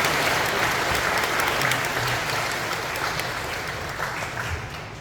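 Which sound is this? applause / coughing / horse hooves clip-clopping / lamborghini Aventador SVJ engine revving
applause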